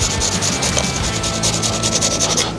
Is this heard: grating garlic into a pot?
yes